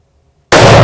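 A single rifle shot fired through an Aimpoint red-dot sight on a mufflon hunting target range, a sudden loud close blast that cuts in abruptly out of silence.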